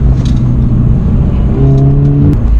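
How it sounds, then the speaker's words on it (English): A car with an aftermarket exhaust revs loudly nearby, its exhaust note rising in pitch as it accelerates, droning steadily before cutting off abruptly. "This car has a phenomenal aftermarket exhaust."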